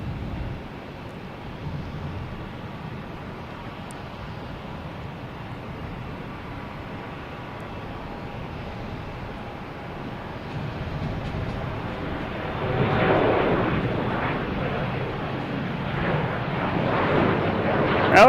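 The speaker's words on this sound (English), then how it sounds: "next taking off, we have Delta heading to Milwaukee, flight 5619, and E175" A Delta Embraer E175 jet taking off at Boston Logan, a broad distant roar that slowly swells and grows louder toward the end, heard alone.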